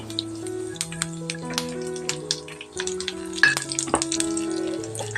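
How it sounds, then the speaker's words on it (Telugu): Chana dal, urad dal and mustard seeds fry in hot oil in a pan, giving a light steady sizzle with small crackles and pops, faint beneath background music. "ఇప్పుడు ముందుగా మనం కొంచెం నూనె వేసుకొని వీటన్నిటిని వేయించేసేసుకుందాం"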